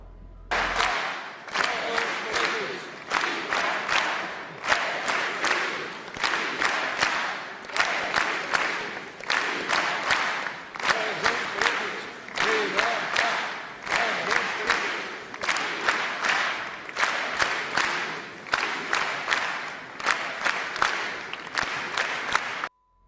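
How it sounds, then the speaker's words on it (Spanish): Large crowd at an award ceremony claps in steady unison to a rhythmic separatist chant, loud and sustained throughout with dense, regular beats and no break. "Absolutamente todo el mundo tocaba las palmas al ritmo de Libertad Presus Politics"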